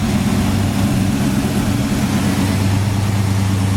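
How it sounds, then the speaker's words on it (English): A 1972 Chevelle with stock manifolds idles steadily with a deep, even low rumble that holds loud and constant from start to finish, with no voices. "Engine runs great."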